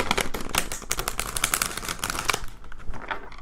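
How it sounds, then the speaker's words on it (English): Tarot cards shuffled in the hands with a rapid, papery riffling and crackling, steady and close, briefly thinning out near the end. "So hard to shuffle this deck."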